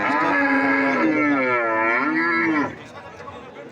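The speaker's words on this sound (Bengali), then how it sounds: "দেখেন মাংসের গরু" At a busy Naogaon weekly cattle market, a beef cow of Sahiwal or Sindhi type gives one long, loud moo that rises and falls, then cuts off into a low crowd murmur.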